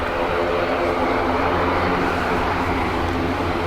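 Aircraft engines roar steadily at Dublin Airport in wet, windy weather, a loud continuous broadband rumble from a plane going around on the far side of the field.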